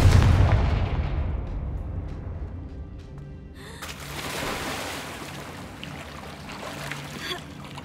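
A Confringo blasting spell in Hogwarts Legacy erupts in a loud, booming explosion at the start, its rumble and debris noise decaying over several seconds, followed by a second burst of crackling, rushing noise midway that lingers to the end.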